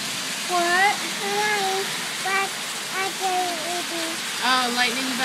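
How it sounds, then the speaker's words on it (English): Heavy rain from a rainstorm pours steadily as a dense, even hiss, while a voice and another person talk over it from close by. "It's still raining hard, but not as hard as it was."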